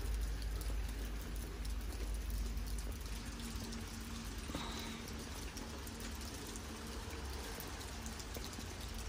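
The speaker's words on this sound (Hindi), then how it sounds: "रिमझिम रिमझिम करती बरसात" Gentle drizzling rain falls over a garden art gallery, a steady, soft hiss of drops that stays even and continuous throughout with no voices.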